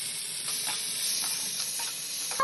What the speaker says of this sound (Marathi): आता ढोबळी मिरची टाकूया आपण.